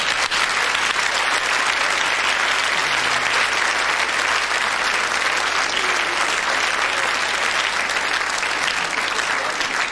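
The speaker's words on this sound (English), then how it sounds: "I'm sure he'll be incredibly grateful for that round of applause" A large audience at a 1999–2000 film awards ceremony gives sustained, dense applause that stays loud and steady throughout, like a continuous wash of many hands clapping in a big hall.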